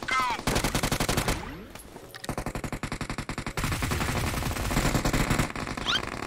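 Rapid automatic gunfire from a battle royale video game rattles in dense, close bursts with little pause, alongside whooshing effects and a few short chirps from the game.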